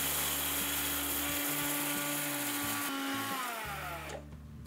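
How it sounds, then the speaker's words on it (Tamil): Mixer grinder whirring loudly as it grinds 30 g of black pepper and 10 g of fennel into fine powder, a steady motor drone with pitch shifts as the load changes, then cutting off near the end. "இதை போட்டுட்டு ஒரு ஃபைன் பவுடராக இதை அரைச்சிருங்க"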